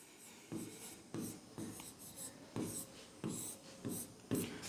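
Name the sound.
writing out a math solution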